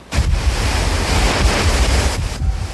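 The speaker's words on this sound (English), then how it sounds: "all day long, wind gusts were still so strong" Hurricane Bonnie's strong wind roars steadily across the microphone, a broad rushing noise with buffeting gusts and deep rumbling low end, no voices.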